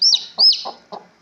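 Native-breed chicks cheep near a brooding hen, two sharp high peeps interleaved with soft low clucks from the hen, close and clear.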